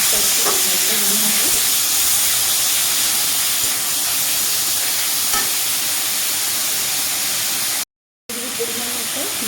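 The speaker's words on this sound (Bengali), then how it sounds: "তেলটা গরম হয়ে গেছে দিয়ে দেবো পেঁয়াজ কুচিয়ে রাখা পেঁয়াজটা" Chopped onions hit hot oil and fry with a loud, steady sizzle and hiss that runs throughout, broken by a brief cut near the end, with occasional stirring and no speech.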